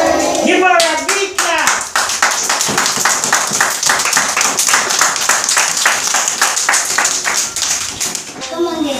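Schoolchildren in Jamaica clap loudly and rhythmically in a steady run of sharp, close hand claps lasting several seconds, with children's voices calling out at the start and end.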